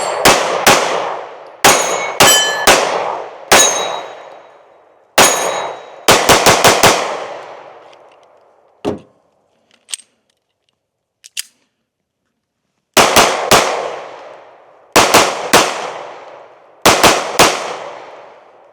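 Taurus GX2 pistol fired in repeated sharp shots, quick pairs and clusters of cracks with ringing tails, then a pause with a few small clicks before more rapid volleys resume, loud and close.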